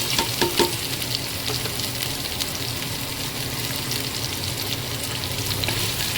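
Potatoes and chopped onion frying in oil while being stirred, a dense continuous sizzle with a few sharp utensil clicks at the start, close and loud, no voices.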